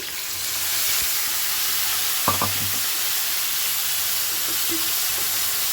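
Onion, tomato and chili paste hitting a pan of frying vegetables with poppy seeds and fish, giving a steady broadband sizzle with a brief clatter of utensils partway through.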